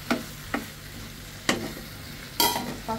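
Chicken and potato curry is stirred in a pan with a few distinct close scraping strokes over a steady low sizzle.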